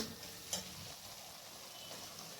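Tomato paste being stirred into a spice mixture frying in oil for a rohu fish curry gives a steady, soft sizzle, with one brief scrape or clink of the spoon near the start.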